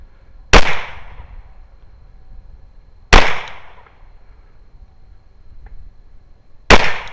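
Three loud, sharp pistol shots fired at targets through ports in a VTAC board during a night vision biathlon, spaced a few seconds apart with ringing decay after each.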